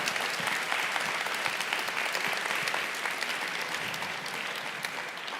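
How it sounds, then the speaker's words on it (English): Applause from an audience at a book talk, a dense, steady wash of many hands clapping across the room that holds strong throughout and tapers slightly at the end. "round of applause for Pam and Brittany"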